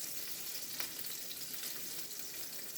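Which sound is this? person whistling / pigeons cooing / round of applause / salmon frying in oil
salmon frying in oil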